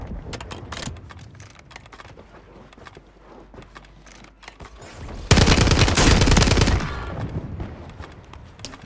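Bursts of STG assault rifle fire in Call of Duty Warzone on Rebirth Island, rapid clustered shots early on, then a sustained loud, dense volley lasting about a second and a half, with no talk.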